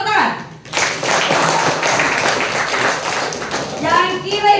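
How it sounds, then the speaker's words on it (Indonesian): Applause and clapping from a school audience at an SMK outreach presentation held in a junior high school, with a dense wash of hand claps sustained for several seconds after a brief voice at the start, and talk resuming near the end. "Tepuk tangan."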